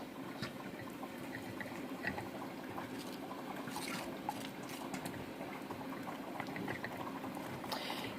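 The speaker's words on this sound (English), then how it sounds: "Now we're going to go ahead and mix our honey in there nice and good." Honey stirred into hot rose hip syrup in a pot gives a soft, steady bubbling and liquid swishing heard close up, fairly quiet with faint scraping clinks.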